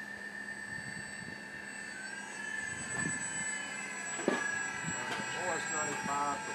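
A Viper Pacer RC model airplane with an OS-95 engine whines faintly at a distance as it passes, its thin tone rising slightly while people talk nearby.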